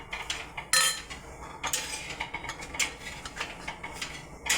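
Dried carrot pieces being tossed and mixed with cumin for carrot pickle, making a series of irregular clinks and scrapes of a spoon against a metal bowl, close and moderately loud.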